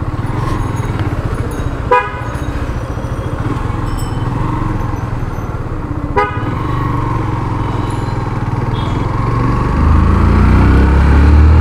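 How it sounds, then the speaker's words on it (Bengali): A Yamaha FZS V2 motorcycle runs under full throttle in gear, its engine a loud steady drone that swells toward the end, with two brief horn toots from nearby road traffic cutting through. "এই যে গিয়ার দেওয়ার পর থ্রোটল আমি কিন্তু ফুল ধরেছি, বাট বাইকটা ফার্স্টে মানে ওইরকমভাবে ভাগছে না"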